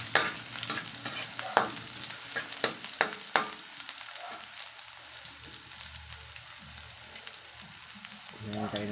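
Plenty of chopped garlic sizzles in hot oil in a pan for pork adobo with potato, with a steady frying hiss and several sharp clinks of a spatula stirring against the pan.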